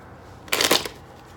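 A deck of tarot cards is riffled in one quick, crisp burst lasting under half a second, close up and set against quiet room tone.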